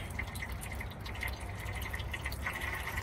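Fluid drips steadily from freshly flushed lines under a 2002 Toyota Tundra, a soft continuous patter close by with no talking.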